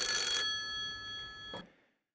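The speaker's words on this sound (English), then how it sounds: "you can hear the banker's ringing us up right now" A telephone in Animal Crossing rings with a bright, metallic bell trill, then a second softer ring that fades into silence.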